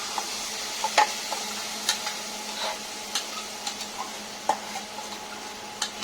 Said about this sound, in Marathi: वाटण चांगलं परतून घ्यायचंय तेल सुटेपर्यंत